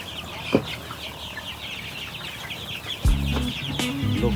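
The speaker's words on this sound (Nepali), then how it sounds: "लोकल चल्ला" Local chicks about a month old, mixed with other chickens, giving sharp cheeps and clucks up close; a louder burst of calls and clatter comes in toward the end, with no one talking.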